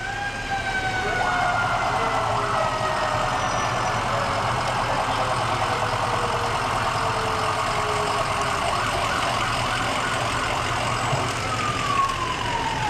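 An ambulance siren wails continuously with rising and falling tones during a parade, moderately distant, over a steady background rumble of engines and crowd noise.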